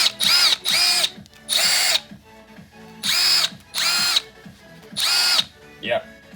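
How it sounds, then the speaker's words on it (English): Snap-on 3/8 brushless power tool fired in six short, loud bursts of high whirring, each start and stop abrupt, with quiet gaps and faint clicking between. "Snap-on 3/8 brushless rocker switch."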